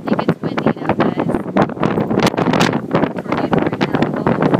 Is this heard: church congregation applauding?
no